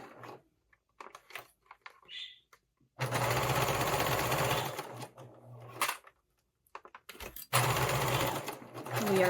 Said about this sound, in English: I'm going to stitch at the edge of my fabric, edge of my webbing, I mean.